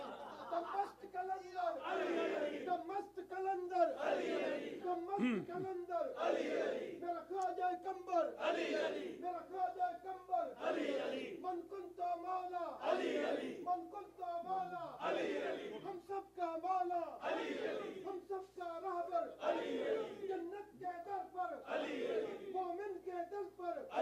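At a Shia memorial majlis, a gathering crowd chants religious slogans in repeated call-and-response bursts, roughly every two seconds, with a leader's voice alternating with the massed reply, moderately distant and echoing.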